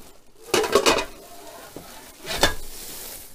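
A metal wok being handled and unpacked, giving two short bursts of rustling, clattering contact separated by quiet, close and fairly loud.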